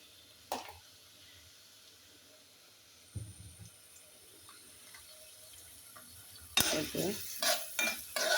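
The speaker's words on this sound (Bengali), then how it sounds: "কিছু পেঁয়াজ দিয়ে দিচ্ছি।" Onions drop into hot oil in a pan for a chicken and potato dish. After a quiet stretch with a few light clinks, a sudden loud sizzle and rustling stirring bursts in near the end.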